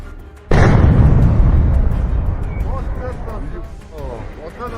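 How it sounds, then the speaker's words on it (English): Sudden loud blast as a drone-hit, abandoned Russian tank explodes, a heavy boom with a long rumbling roar that slowly fades, while a voice talks over the tail. "A minute later, the tank exploded."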